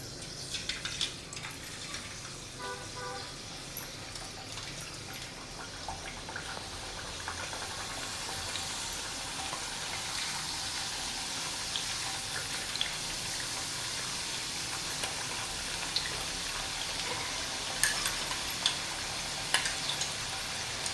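Potato slices for wafers dropped bit by bit into hot oil, a loud continuous bubbling sizzle that builds and holds steady, with a few faint clatters early on and no voices.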